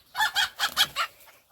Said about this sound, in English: He is the king rooster